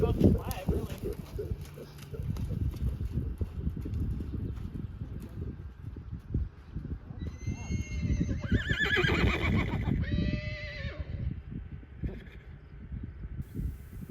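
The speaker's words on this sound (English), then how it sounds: "he begins to whinny towards the other horses less and less when they call for him" A 2-year-old stud colt in a round pen lets out a loud, wavering whinny in two calls, one after the other, over shuffling hoof sounds and background noise.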